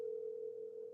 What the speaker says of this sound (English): I'm trying to call her on WhatsApp.